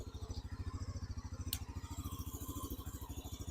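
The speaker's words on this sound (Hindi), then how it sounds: "तो ये देखिए बाइक मैंने स्टार्ट कर दी है" Motorcycle engine just started and idling close by, with a steady rapid putter of even low thumps and a brief click partway through.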